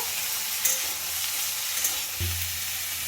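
Cut beans and other chopped vegetables stirred in a hot pan, giving a soft steady sizzle with a couple of faint scraping touches and a low thump near the end, no voices.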